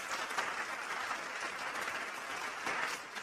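Steady applause from an audience, faint and distant, holding evenly for a few seconds as a dense wash of clapping, with no single claps standing out.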